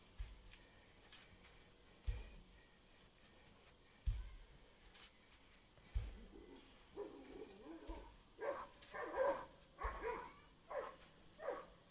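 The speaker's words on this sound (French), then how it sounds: "Désolé, c'est mes chiens." Pet dogs barking indoors during a home workout session; a few faint, distant barks repeat at regular intervals, then a busier run of soft yelps and whimper-like barks follows, with no talk over them.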